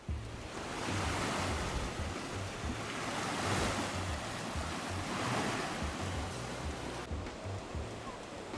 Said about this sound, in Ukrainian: послухати звуки такого спокійного моря